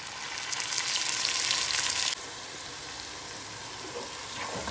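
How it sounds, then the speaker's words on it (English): Onions hit hot groundnut oil in a pan with a loud, bright sizzle that drops abruptly halfway, settling into a steady, softer frying hiss with no talking. "Add the onions."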